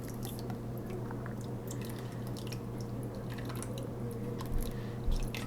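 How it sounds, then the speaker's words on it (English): Juice from a can of red chili draining into a stock pot, a steady wet trickle with soft squishing and dripping, closely miked and continuous, with a couple of slightly louder splats near the end. "So all I'm doing is draining the juice that's in here out."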